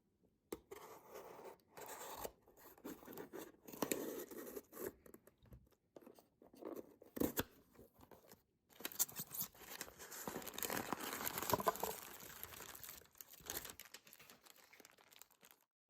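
Close, quiet crinkling and tearing come from a DIY jewelry bead subscription box being opened, with packaging rustling and scraping in irregular bursts and no talk.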